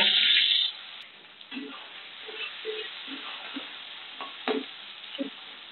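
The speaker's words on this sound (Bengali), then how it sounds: "পেঁয়াজগুলো লাল লাল করে ভেজে নেবো।" Onions fry in hot oil after whole spices are added, a fizzing sizzle with intermittent scraping stirs, louder at first and then settling into a softer, steady crackle.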